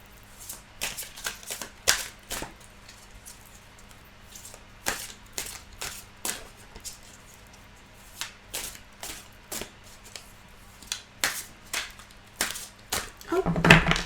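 Tarot cards are shuffled by hand in quick riffled bursts, a series of crisp, close slapping and fluttering clicks with short gaps between them.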